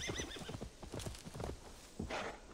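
A horse whinnies and its hooves clatter as it is called over in the video game Assassin's Creed Valhalla, with the neigh up front and quick hoofbeats beneath, quiet overall.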